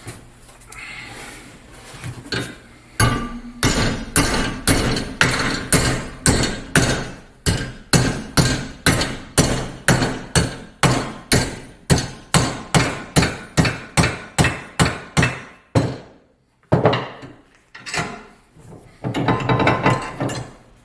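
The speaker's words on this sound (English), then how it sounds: "Now this one I'm going to try and hammer it square." A hammer strikes a metal grill grate again and again in a fast, steady rhythm of loud ringing blows, pausing briefly before a few final hits.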